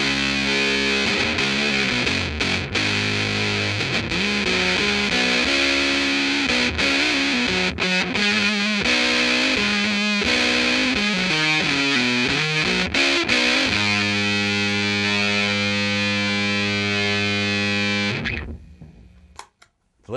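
Electric guitar through an Electro-Harmonix Little Big Muff Pi fuzz pedal with the tone turned up, playing thick sustained distorted chords and riffs, loud and close before cutting off at the end.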